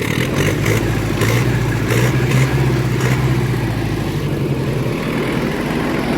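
A heavy turbocharged SMD diesel tractor engine idles steadily and loudly, with a low rhythmic chugging throughout and a slight dip in pitch near the end.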